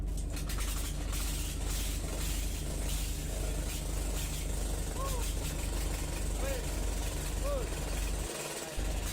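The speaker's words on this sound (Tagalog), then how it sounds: "naandar na dito yung ating single cylinder engine" A KAMA-Kipor single cylinder diesel engine runs steadily close by after a top overhaul, its low continuous chugging drone holding at constant loudness through the whole stretch, with a few faint high squeaks on top and no talking.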